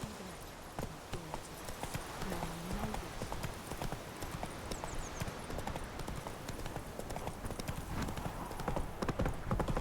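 A horse gallops with rapid, continuous hoofbeats across ten seconds in The Witcher 3, loud and close, with a brief whinny early on and game sounds layered around it.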